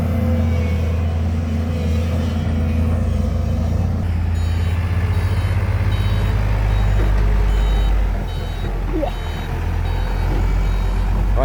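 A truck reverses with steady repeating backup beeps while dumping soil to fill ground at a reservoir dredging site, its heavy engine rumbling loudly and continuously underneath.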